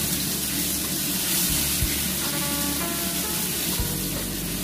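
Garlic fries in oil in a pan on reduced heat, a steady, loud, close sizzle that runs continuously with no talk over it.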